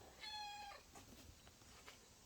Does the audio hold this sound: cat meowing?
yes